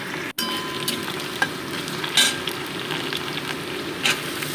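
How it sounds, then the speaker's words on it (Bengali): Chopped onion and green chilli fry in a pan over potatoes for a fish chachchari, giving a steady close sizzle with a few soft stirring clicks, and no voices. "ভালো মতো পেঁয়াজ লঙ্কাটাকেও আমি 2 মিনিট মধ্যে ভেজে নিচ্ছি"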